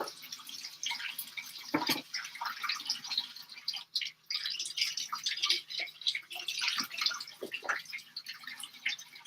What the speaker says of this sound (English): we'll go ahead and like rinse it off anyhow